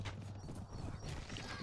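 Horse hooves from the Steel and Flesh video game thud in a quick, irregular clip-clop, fairly faint and mixed with a low background hum, with no talking.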